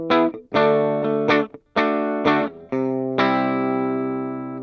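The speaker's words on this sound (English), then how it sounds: "here's what the guitar sounds like without any distortion on it" A clean, undistorted electric guitar, a Yamaha RSS20, rings out in several loud strummed chords, each sustaining briefly before the last one decays slowly and alone.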